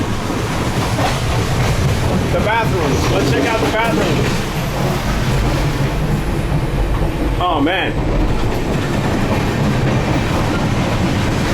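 Inside a first-class carriage of an Indian passenger train, wheels rumble and clatter steadily on the rails at a constant loud level. Someone talks over the noise now and then.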